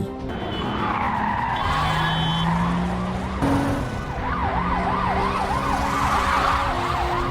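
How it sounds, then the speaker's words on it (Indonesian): Police sirens wail and warble continuously through a car chase in an action film, with skidding tires and revving engines close by and loud throughout, no talking. "terjadilah aksi kejar-kejaran antara Jack dan polisi"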